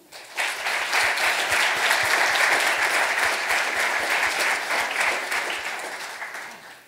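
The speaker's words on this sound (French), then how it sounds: "Veuillez applaudir Monsieur Yves Blache" An audience at a doctoral school ceremony in Toulon applauds a college director, steady warm clapping that swells quickly, holds for several seconds and tapers off.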